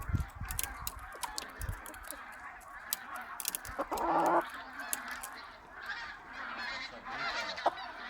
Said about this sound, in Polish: gęsi lecą.